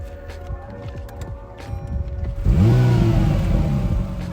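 A hybrid 580hp Acura NSX engine turns over and catches, settling into a smooth, fairly quiet idle after some faint background movement.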